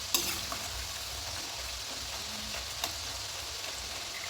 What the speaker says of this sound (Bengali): এভাবে আমি তিন চার মিনিট নাড়াচাড়া করে ভালোভাবে নেড়ে ভেজে নেবো